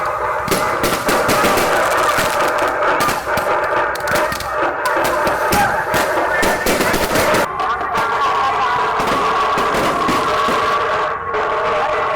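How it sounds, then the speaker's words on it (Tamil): Firecrackers burst nonstop at the Gangai Amman temple festival in Pogai Mottur, Vellore, a loud, dense rattle of rapid crackling reports continuing unbroken for the whole stretch. "விடாம வெடிச்சுக்கிட்டே இருக்கு செம்மையா இருக்கு"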